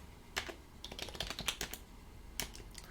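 Bursts of typing on a computer keyboard, quick irregular clicks of keys, fairly close, with short pauses between flurries and no talking.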